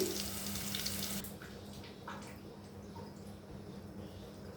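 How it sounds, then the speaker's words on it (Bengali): Water poured into a pan of fried onions with green chillies and bay leaf, a loud splashing gush for about a second that settles into a softer bubbling hiss. "এখন আমি দিয়ে দেবো এই যে পানি।"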